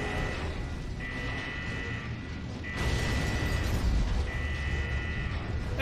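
A building blowing apart in the video game Gears of War 3: a steady, noisy rumble of crumbling debris and blasts, swelling louder partway through, with a recurring high mechanical whine over it and no voices.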